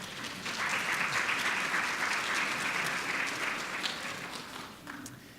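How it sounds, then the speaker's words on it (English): Audience applause at an education forum on building the teacher pipeline, a steady sustained round of clapping from a crowd that stays full for several seconds and tapers slightly at the end. "How about giving them a round of applause?"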